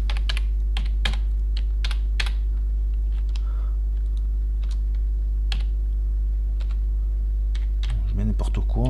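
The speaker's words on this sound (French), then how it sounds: "Donc je vais taper du code." Code being typed on a computer keyboard, with irregular bursts of sharp close key clicks over a steady low electrical hum, and a short voiced sound at the end.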